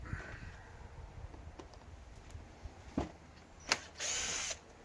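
Power drill whirring in short bursts as screws are backed out on a Suzuki Burgman 650 scooter, close and loud, with brief gaps between spins and a longer run near the end.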